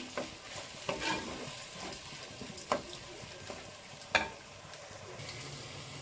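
Chopped tomatoes fry in a pan for a fish sambar with a soft, faint sizzle, marked by occasional light clicks and scrapes as they are stirred, with no voices.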